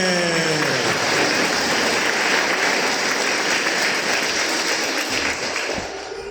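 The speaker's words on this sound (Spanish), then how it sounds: "Aplauso fuerte." Loud, dense applause from guests at a quinceañera celebration in Ameyaltepec, Guerrero, sustained and close, fading slightly at the end.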